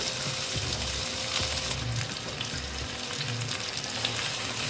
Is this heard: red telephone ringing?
no